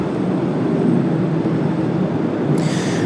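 A United Boeing 737-900 touches down at Washington Dulles on a cloudy, rainy day, heard as a steady broadband roar from a distance with no voices.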